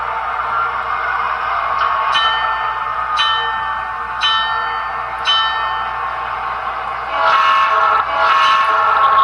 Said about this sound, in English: This is my favorite, probably one of my very favorite locomotives.